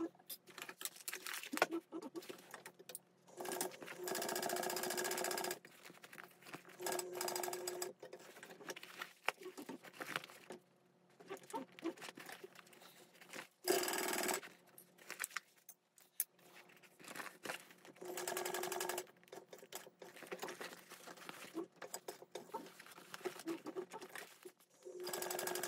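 A sewing machine top stitches around fabric binding with clipped corners, running in steady whirring bursts separated by short pauses, fairly close and with no talking.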